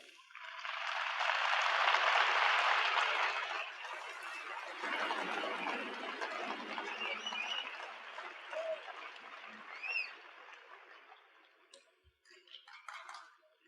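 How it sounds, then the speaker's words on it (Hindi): Audience clapping at the 1986 PTV Awards Show on Pakistani television, a broad wash of applause that swells early and then thins gradually into scattered claps over roughly thirteen seconds, with faint murmurs and a whistle near the end. "थोड़ी सी तालियां बजाकर रखिए"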